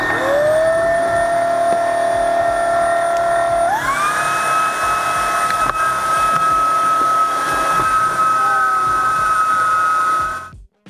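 A Jimmy JV51 cordless stick vacuum cleaner runs loud and close with a steady high whine, stepping up in pitch after a few seconds as it changes power, then cutting off abruptly at the end.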